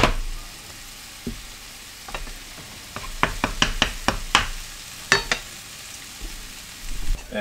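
Garlic frying in a pan for Filipino ginisang ampalaya, a soft steady sizzle punctuated by a cluster of sharp clicks and taps from utensils, close and fairly quiet.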